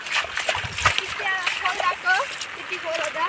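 Rainwater splashing and trickling nearby as a small stream runs downhill, with a voice talking over it.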